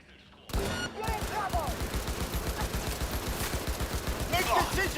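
Assault rifle fire in the Cyberpunk 2077 video game rattles off in a long, dense stream of rapid shots, loud and close, with a game voice heard faintly beneath.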